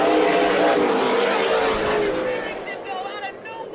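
Race cars at Tucson Speedway roar together as they accelerate at a green-flag restart, a loud dense engine surge close by that fades slightly toward the end, with a commentator's voice blended in.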